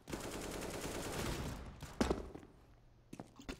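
Rapid automatic gunfire rattles in a Counter-Strike match, a loud sustained burst that cuts off sharply, followed by a few scattered clicks and shots in a quieter lull.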